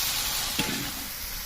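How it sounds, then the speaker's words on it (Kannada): Vegetables frying in a pan for vegetable pulao, with a steady loud sizzle and a brief stir or scrape midway. "ತರಕಾರಿ ಎಲ್ಲ ಸ್ವಲ್ಪ ಚೆನ್ನಾಗಿ ಫ್ರೈ ಮಾಡ್ಕೊಂಡಿದ್ದಾದ್ಮೇಲೆ ಮಸಾಲೆಗಳೇನಿರ್ತದೋ ಅದನ್ನೆಲ್ಲ ಹಾಕ್ಕೋಬೇಕು"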